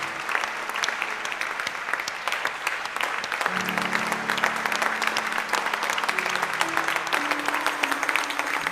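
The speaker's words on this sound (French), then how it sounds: "On donne des acclamations vibrantes au Seigneur." A church congregation at a worship service claps and cheers together, a loud sustained roar of applause with a few held voices and tones rising beneath it partway through.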